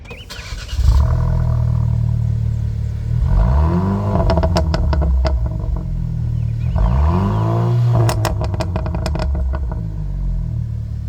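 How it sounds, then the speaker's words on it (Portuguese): Exhaust roar of a 2025 Fiat Fastback Abarth compact sport SUV, revved several times from idle with rising and falling engine sweeps and crackles, loud and close. "o mais legal desse conjunto mecânico é, sem dúvidas, o ronco do escapamento. Escutem aí."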